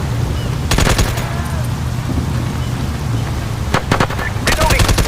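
Automatic gunfire from SOCOM: U.S. Navy SEALs Fireteam Bravo 3 rattles out in loud, sharp bursts, one near the start and a cluster toward the end, over a low rumbling battlefield ambience.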